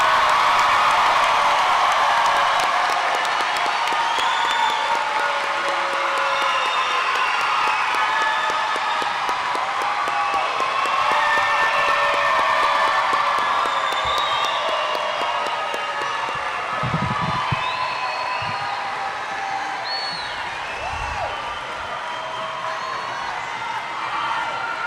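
A large crowd claps and cheers for graduates at the 2013 Pittsburgh CAPA high school commencement, with dense, steady applause and scattered whoops filling the hall for about twenty-five seconds.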